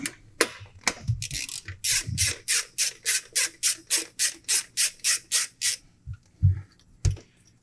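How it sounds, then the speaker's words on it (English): Ratchet wrench on the cold start injector line of a Toyota 22RE engine, giving about fifteen quick, evenly spaced rasping clicks up close, with a few dull knocks before and after. "What we're going to do is remove the cold start injector line"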